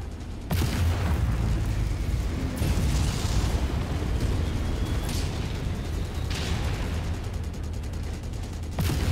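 Heavy booming missile explosions crash through a MechWarrior 5 battle, loud and continuous, with sharp blasts near the start and end over a dense rumbling barrage.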